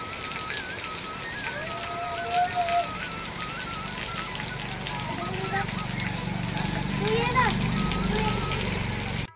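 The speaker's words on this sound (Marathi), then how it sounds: "पाऊस लागतोय" Continuous rainfall patters and splashes on farmland throughout, while people talk nearby over the steady downpour.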